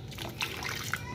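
Hot water trickling and splashing over raw tuna being readied for sashimi, a steady wet pour at close range, with a voice talking intermittently over it.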